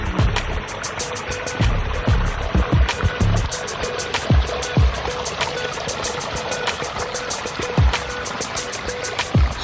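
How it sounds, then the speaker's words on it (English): Water runs and splashes steadily in a public courtyard pond feature with koi, a continuous trickling burble with occasional louder splashes throughout. "Well, that's a nice public display water feature."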